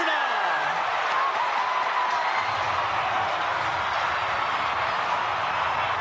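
A rugby match crowd roars in steady, dense cheering and applause that fills the whole stretch, loud and continuous with no break.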